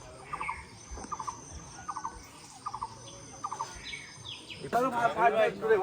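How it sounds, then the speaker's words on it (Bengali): Repeated short rhythmic bird calls from a hornbill in hilly forest, a series of evenly spaced bursts at moderate distance over faint insect hum, ending in a louder, busier stretch of sound. "যে পাখিটার আওয়াজ শুনলেন এটা হচ্ছে ধনুষ পাখি"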